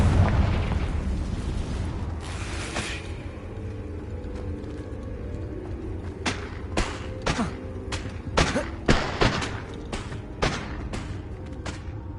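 Confringo fire spell from the Hogwarts Legacy video game going off, a deep booming blast at the start that rumbles and fades, followed by a string of sharp popping impacts and thuds.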